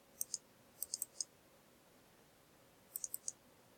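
A computer mouse clicking several times in quick clusters of two to four sharp, close clicks, separated by a quiet pause, with no voice.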